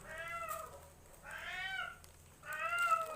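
A cat meows three times in a row, fairly close and clear, with short pauses between the calls and faint background noise.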